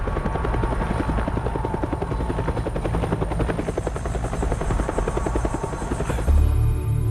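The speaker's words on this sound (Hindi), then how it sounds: "फॉसिल की तलाश के लिए दुर्गम जगहों पर जाना अब हेलीकॉप्टर से आसान हो गया है।" A helicopter flies over frozen mountains on an expedition to remote fossil sites, its steady rotor thump and engine drone loud and continuous throughout.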